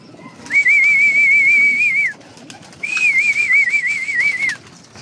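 Pigeons kept by a fancier, heard as two long, clear whistling tones that each hold steady for over a second before dropping away, loud and close against quiet surroundings with no talk.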